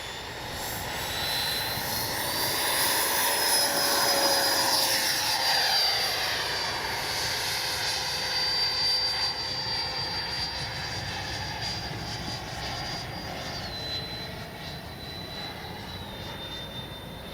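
A Freewing F-22 90mm electric ducted-fan RC jet takes off, its high turbine-like whine rising and sweeping steadily for about seventeen seconds, loud and close at first, then easing slightly as it pulls away, with no talk.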